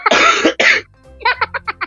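A person coughs: a few heavy, harsh bursts up close, followed by a quick run of shorter, lighter coughs.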